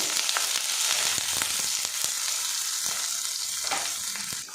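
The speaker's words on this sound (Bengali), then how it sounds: "এবারে এগুলো আমি হালকা করে ভাজা ভাজা করে নেব" Thinly sliced onions frying lightly in a pan for egg curry, a steady close sizzle with occasional stirring clicks and no talking.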